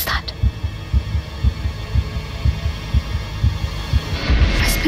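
Heartbeat pounding in an audio drama set in the woods: a steady, throbbing low double thump repeating about every half second over a faint hum, up close and alone with no talk.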